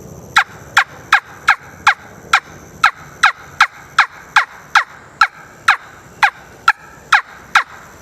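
Wing bone turkey call sounding a steady series of about eighteen sharp, evenly spaced yelps, loud and close with no voices.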